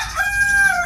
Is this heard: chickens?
yes